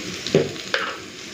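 Snake gourd sizzles as it fries in a pan, with a steady hiss and two quick stirring scrapes close by.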